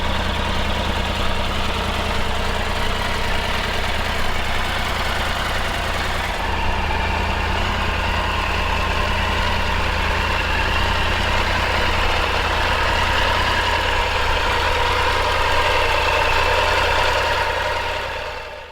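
A Triumph Tiger 900 three-cylinder motorcycle engine runs steadily in a soft, even throbbing rumble close by, with a slight change in tone partway through, continuing for a long stretch and then fading at the end, with no talking.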